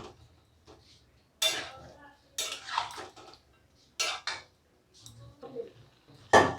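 Vegetables with Amul milk stirred in a pan over a gas flame, heard as intermittent clinks and scrapes of a metal spoon against the pan, separated by quiet gaps, close up.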